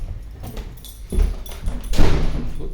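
A small key turns in a lock and a building door is pushed open, giving a couple of soft thuds and a louder knock of the door swinging, heard close with no talking.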